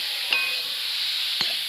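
Pointed gourd and shrimp curry sizzles softly in a pan over a steady hiss, with two brief spatula scrapes as it is stirred; no one speaks.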